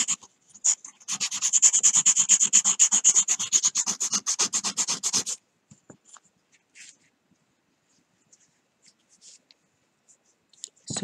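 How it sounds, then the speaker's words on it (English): Hand sanding of a hand-carved wooden fishing lure tail, with a dense run of quick rhythmic rubbing strokes for about five seconds, close and fairly loud, then a few faint scattered scrapes and light handling noises. "the way I do that is I just keep turning it as I sand"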